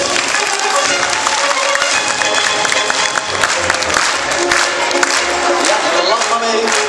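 An audience applauds a horse dressage act at a school circus performance, with dense, steady clapping and crowd noise filling the room throughout.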